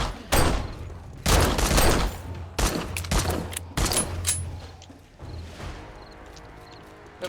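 Bursts of gunfire in the zombie survival game 7 Days to Die, several loud, close volleys of rapid shots separated by short pauses, with quieter clatter trailing off at the end.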